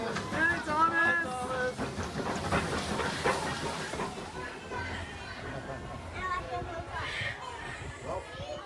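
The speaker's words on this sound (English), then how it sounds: "Thomas will now be taking us back to the Strasburg" Thomas-themed steam locomotive at the Strasburg Rail Road, hissing and rumbling steadily along with railcar noise, while voices and children chatter nearby throughout.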